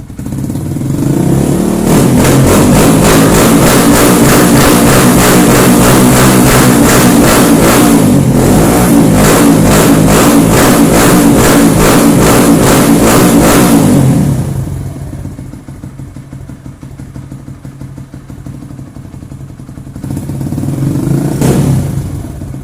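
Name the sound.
Kawasaki KLX 150 motorcycle engine idling and revving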